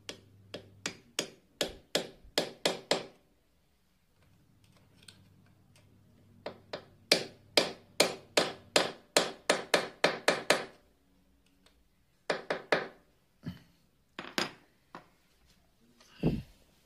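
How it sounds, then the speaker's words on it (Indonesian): A screwdriver taps gently on the side oil pump of a Yamaha F1ZR motorcycle in quick bursts of small, close metallic knocks, separated by short pauses. "Jangan lupa getok pelan-pelan pakai obeng."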